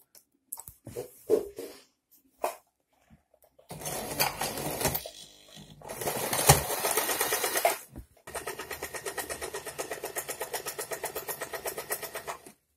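Sewing machine stitching a padded blouse: short bursts of clattering needle action at first, then longer sustained runs of rapid, even mechanical stitching, loud and close with brief pauses between.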